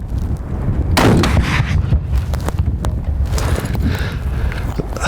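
A loud grenade launcher blast booms close by during military training, followed by continuous rumbling noise and scattered sharp cracks, with no talk.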